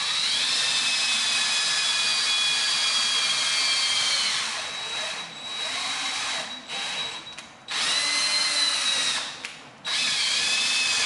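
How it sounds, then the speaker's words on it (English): A power drill whines loudly, drilling out a pilot hole for fuel injectors in the intake of a 2020 Chevrolet C8 Corvette being fitted with Holley Dominator port injection and a Carbon PTR intake. It runs steadily, then stops and restarts several times in short bursts. "just put a socket in the pilot hole and drill it out"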